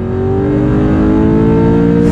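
Stroked 4.9-liter Ford Mustang engine, tuned to about 410 wheel horsepower, revving loud and close with a steady deep drone throughout, no talk.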